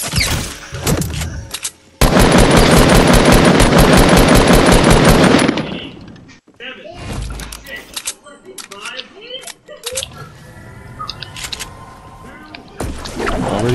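Rapid automatic gunfire in a Fortnite match, a long loud sustained burst followed by scattered shots and game effects, with players talking over parts of it.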